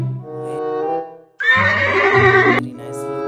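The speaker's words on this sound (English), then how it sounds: "Wow, guys, black horse" A black horse neighing, a loud, close whinny with a rising harmonic cry that breaks into a rougher shuddering call, then trails off, with no talk.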